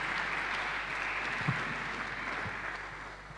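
Congregation applauding for Jesus at a French-language church service, steady dense clapping from many hands sustained throughout at moderate loudness.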